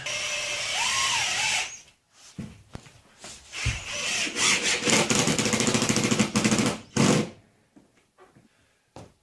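A power drill drives screws into a wooden skateboard bowl, with bursts of whirring and grinding separated by short pauses and clicks, loud and close.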